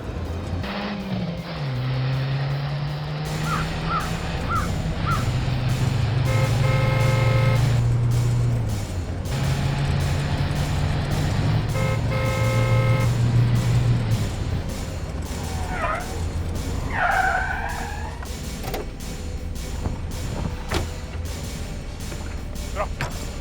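In a televised crime drama, a car speeds along during a chase to overtake another vehicle. Its engine hums and rises in pitch under a busy mix of background sounds and occasional voices.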